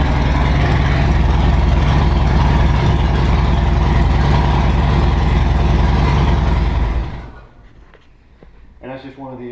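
A motorcycle fitted with a ThunderMax engine management system runs loud and steady at idle with a heavy low rumble, then cuts off abruptly, leaving quieter background sounds and a brief voice near the end.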